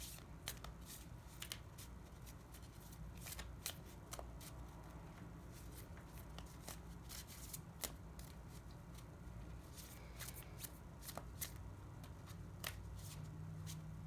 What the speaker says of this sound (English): We're going to give it a good shuffle and see what we come up with.